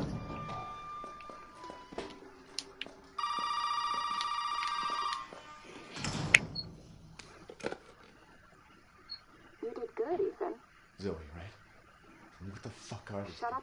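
A telephone rings in the horror game Resident Evil 7, a steady electronic ring lasting about two seconds mid-scene, surrounded by creaks, footsteps and other faint in-game house noises.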